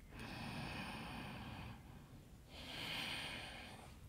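Two long, soft breaths drawn slowly through the nose and released during a yoga session, each swelling and fading with a brief quiet gap between, close and intimate with no talking.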